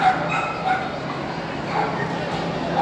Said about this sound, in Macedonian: халата е пуна, има илјадници кучиња на денешниот ден, пријавени на ова европско првенство